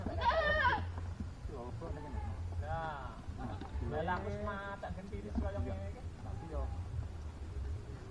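Goats bleat repeatedly at a village wedding celebration, several wavering close calls spaced across the clip over a low background hum, with faint voices in the background.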